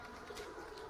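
Racing pigeons give a brief, faint cooing call at a loft during a pigeon race in Qatif, under a soft background hiss.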